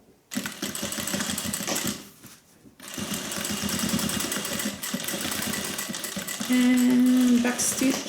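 Sewing machine stitching a zip seam on a sling bag, fast steady mechanical whirring in bursts with a brief pause midway and a soft tone near the end.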